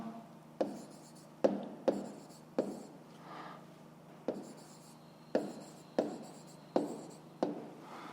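A pen writes out a math solution on paper, close and quiet, with sharp taps and short scratchy strokes at irregular intervals over a faint steady hum.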